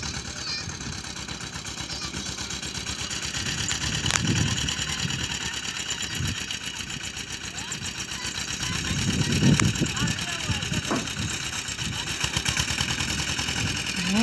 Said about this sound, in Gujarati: ધમુડી જાય છે ટ્રેક્ટરમાં બેહવું પણ કોઈ બેહાડતું નથી.